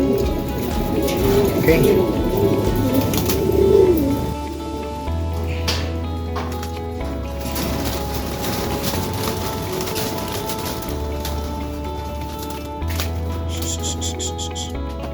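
Racing pigeons coo softly inside their loft while someone talks over them, the low throaty calls repeating through the scene amid light patter like rain on a surface.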